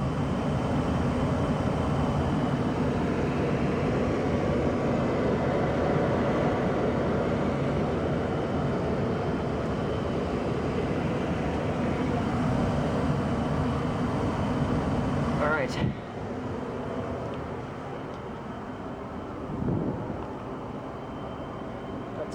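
A Tempstar gas furnace runs with four burners lit, giving a steady, loud broadband roar that holds for most of the span before dropping abruptly to a quieter hum, with a brief thump near the end.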